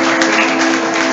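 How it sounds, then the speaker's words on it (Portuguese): An audience at a spiritist talk about Jesus claps in a short, dense burst of applause. The clapping is loud and sustained throughout. "Uma salva de palmas para Jesus"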